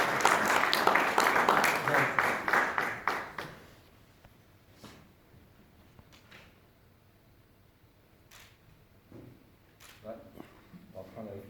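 Audience at a book presentation applauding loudly for about three seconds, then the clapping dies away into a quiet room with scattered claps, shuffling and someone speaking.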